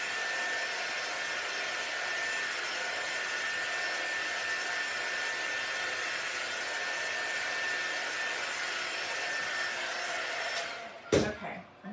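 A hair dryer blows on homemade black and white Christmas tree ornaments, giving a loud, steady whooshing whir that runs unbroken for about eleven seconds before it cuts off with a brief clatter.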